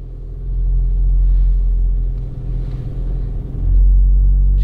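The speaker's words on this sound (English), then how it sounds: "Just the acceleration there" A car climbs uphill under clutch control, its engine a low steady rumble that dips briefly, then swells again as acceleration picks up.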